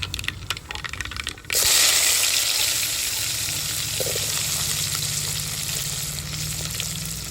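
Mustard seeds, urad dal and fenugreek hit hot oil with a sudden loud sizzle and crackle after a second or so of quieter handling, then fry steadily in a dense, close hiss with no talking.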